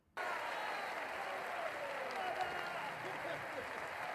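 Audience applause in The Greatest Showman (2017), a steady wash of many hands clapping heard at moderate distance and sustained throughout.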